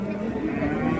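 A bull at a busy cattle market in Mang'it gives a low, drawn-out moo, loud and near, over a murmur of crowd noise.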